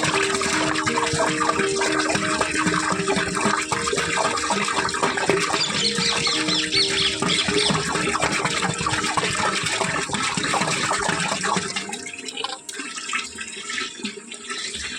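Water and desi cow urine are poured in large volumes, about 150 and 20 litres, into a container while preparing dashaparni. The splashing gushes continuously for several seconds, then thins out toward the end.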